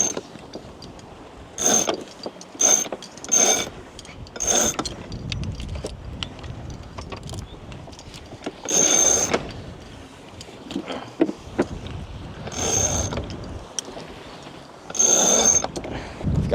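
Jib sail being raised and winched on a sailboat off a remote Fiji island, a series of loud ratcheting winch bursts and rope whirs in uneven clusters, close by over wind and hull noise, with no talking.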